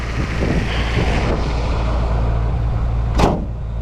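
A 1971 Vauxhall Firenza's 2-liter overhead-cam engine runs with a steady, close low rumble under some wind buffeting, with a short sharp click or knock near the end.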